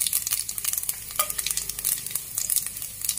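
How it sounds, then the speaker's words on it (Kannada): Mustard seeds, chana dal and urad dal frying in hot oil, a dense crackling sizzle with rapid pops and spatters, close and loud, continuous for a few seconds without speech. "ಸ್ವಲ್ಪ ಫ್ರೈ ಆಗಲಿ."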